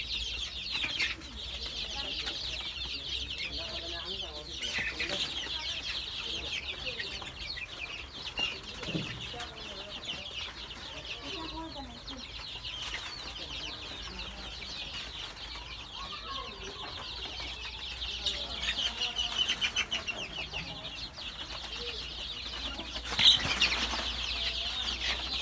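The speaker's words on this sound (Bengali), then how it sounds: "১ মাসের মুরগির চাও।" Month-old chicks and young hens at a small poultry farm cluck and peep continuously at a moderate distance, with occasional wing flaps and faint background voices.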